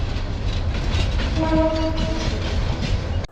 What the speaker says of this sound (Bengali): দেখছো ট্রেন